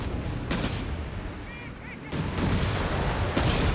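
Gunfire from a 3-inch gun in the game Company of Heroes 3, with several booming shots and heavy blasts over a dense battlefield din.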